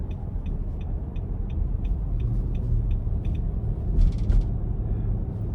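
Steady low road rumble and engine hum inside a 2023 Nissan Armada Platinum SUV on the move, with faint regular ticking and a brief brighter burst near the end, no speech.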